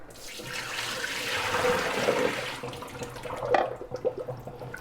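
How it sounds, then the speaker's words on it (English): Water poured out of a bowl after rinsing knitted swatches, a steady rushing splash that swells and then breaks into trickles and drips, close by with no talk. "I'm just dumping out any excess water that falls out"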